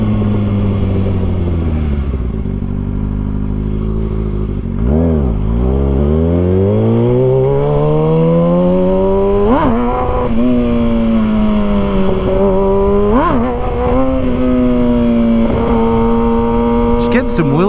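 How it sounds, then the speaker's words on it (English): A 2023 Kawasaki ZX-6R sport bike revs hard in first gear during wheelie practice, its engine pitch dropping low, then climbing and surging in repeated throttle blips, loud and close throughout. "Just getting some wheelie practice in"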